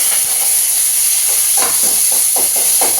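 Onions are dropped into hot oil with curry leaves for a potato masala, giving a loud, close, continuous sizzle with spitting crackles and bubbling pops throughout.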